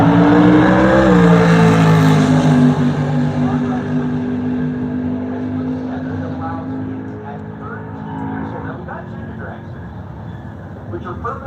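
A gold Plymouth Duster drag racing car launches down the strip, a loud engine roar that sweeps in pitch then slowly fades into the distance, with an announcer talking over it throughout.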